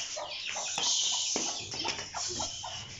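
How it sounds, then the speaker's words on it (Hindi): Newly hatched Aseel chicken chicks give high, thin peeps and cheeps in quick, irregular bursts, close by and fairly faint. "ये 2 जो बच्चे हैं ये असील हैं, असील निकल आए हैं।"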